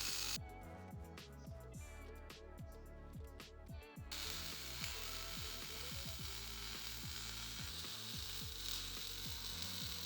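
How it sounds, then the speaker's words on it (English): A plasma cutter slices out steel shock brackets meant for a 9-inch rear end, giving a steady close hissing crackle threaded with rapid ratchet-like clicks that runs unbroken for the whole stretch, with no one talking. "We start out using our plasma cutter, cutting out some shock brackets"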